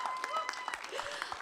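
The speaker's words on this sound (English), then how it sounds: "We need to clap for ourselves." A crowd at a film press conference claps, a dense patter of many hands heard a little away from the microphone, mixed with a murmur of voices.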